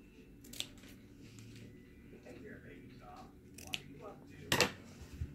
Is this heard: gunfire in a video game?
no